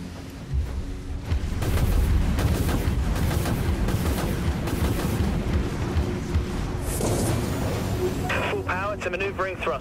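Heavy naval cannon fire from warships in the sci-fi combat game Dreadnought, a dense rolling barrage of booming shots that runs almost continuously at high volume, with a voice speaking near the end.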